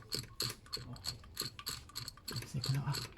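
A ratchet wrench works the tappet cover bolts on a 2007 Ford Ranger 3.0 TDCi, giving quick bursts of faint, close pawl clicks in an uneven rhythm, with soft talk now and then.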